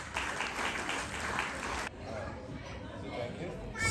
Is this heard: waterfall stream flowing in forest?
no